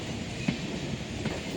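A train travelling from Mangalore to Bangalore heard from inside, a steady low rumble with two brief clacks of wheels over rail joints, moderately loud and without talking.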